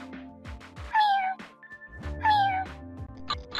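Mew's cry from a Pokémon video game, a pair of high, sliding electronic mewing calls, fairly loud, sounding alone with a steady synthetic tone in the background.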